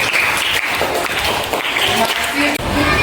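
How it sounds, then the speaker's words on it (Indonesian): Applause for a group of teachers at a school coaching and academic supervision session, dense clapping mixed with voices, steady and fairly loud throughout with one brief dip near the end. "lagi sekali tepuk tangan untuk kelompok 2"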